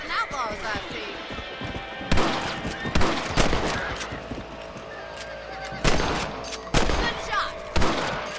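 Gunshots in the Red Dead Redemption video game, several sharp loud cracks spaced irregularly across the stretch, mixed with a horse whinny and hoof clatter, and voices talking in the background.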